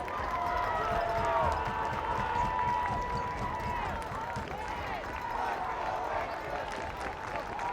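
High school football crowd cheering and clapping after a Masconomet touchdown against Wakefield, a sustained roar of many voices with scattered applause, mixed with a commentator talking over it.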